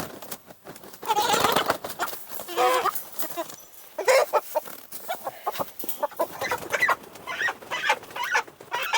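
Fifteen meat chickens cluck and squawk close by while being loaded into a crate, with busy, overlapping calls and scattered knocks and rustling. No one speaks.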